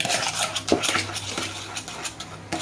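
Cupcake batter being mixed in a bowl, with repeated scraping and clinking of a utensil against the bowl, close and steady with a few sharper knocks.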